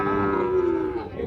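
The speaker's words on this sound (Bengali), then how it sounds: "প্রচুর চাহিদা সম্পন্ন শাহিওয়াল জাতের সার গরু," A Sahiwal bull mooing at a busy cattle market, one loud, close, sustained low call with market noise in the background.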